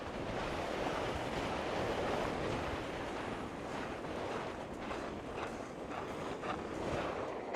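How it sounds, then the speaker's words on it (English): Strong wind blowing across the rim of Ubehebe Crater in Death Valley, a steady loud roar buffeting the microphone with no pauses, heard alone. "The wind is crazy up here."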